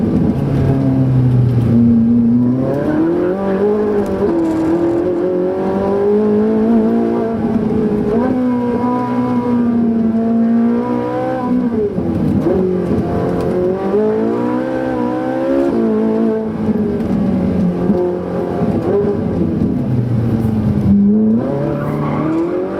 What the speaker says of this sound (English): Great traction coming out of the corner and up through the gears down this straight.